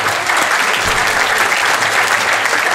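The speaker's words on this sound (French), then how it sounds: "On l'applaudit," Festival audience applauding performers at a celebrity look-alike show, a dense, steady wash of clapping from a large crowd that holds at full volume throughout with no talking over it.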